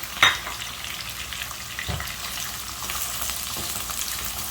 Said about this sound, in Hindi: प्याज को भी कर लेंगे थोड़ा सा ब्राउन।